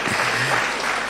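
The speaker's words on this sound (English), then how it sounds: "I think she deserves another clap." Dense audience clapping at a data protection certificate graduation ceremony, a continuous burst of many hands applauding loudly and close by.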